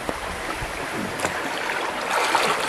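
Spring water from a rock spring flows and babbles steadily over rocks outdoors, a continuous close rushing with small splashes throughout.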